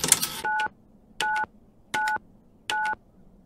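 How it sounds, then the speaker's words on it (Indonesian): Keypad tones from a public telephone, four evenly spaced identical beeps as the same number is pressed repeatedly, clear and close after a brief burst of noise. "mencet nomor 9 4 kali"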